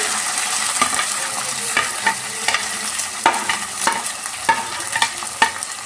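Tomato, onion and green chillies frying in a pan for a green pea tomato curry, a steady sizzle broken by repeated scraping stirs of a spoon, close and clear with no talk.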